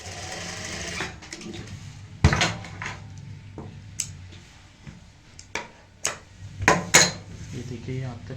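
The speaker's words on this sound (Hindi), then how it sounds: "ये देखिए यहाँ तक हमने सिलाई लगा ली है" A sewing machine runs in short bursts, stitching the straight side seam of a kaftan dress, close up, with sharp clicks and knocks between runs and someone speaking over it.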